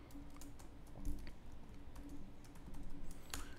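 Sign-up details being typed on a computer keyboard: a steady patter of close key presses with a couple of louder thumps, likely the space or enter key, over faint background hum and no speech.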